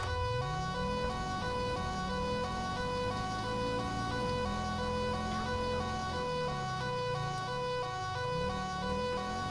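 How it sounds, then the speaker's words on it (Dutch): Police Audi siren in the video game GTA 5, a continuous wailing siren over a rising and falling car engine, loud and steady throughout with no talk. "Sirene gaan ook meteen lekker aan."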